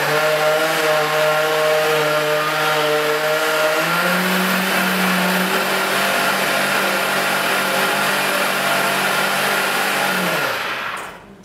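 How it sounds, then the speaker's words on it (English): A kitchen blender whirs steadily while blending a banana caramel ice cream mixture, its motor holding a loud, even hum, shifting pitch once, then spinning down at the end. "Put a lid on them and just blend it up."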